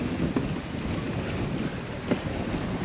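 Sailboat running dead downwind offshore through diagonal waves, steered by a Cape Horn self-steering wind vane; a steady, loud rush of wind and water with a couple of faint knocks, no voices.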